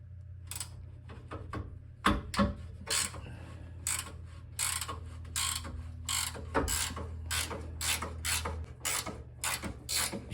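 A ratchet wrench clicks in quick repeated bursts as a bolt is backed out on a 1976 Mercury Monarch, close and loud, with short pauses between strokes over a low steady hum.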